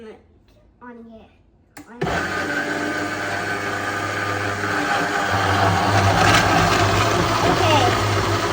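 A kitchen blender whirs steadily while blending watermelon juice, starting abruptly after someone speaks briefly, then running loud and continuous with a low motor hum and rising intensity.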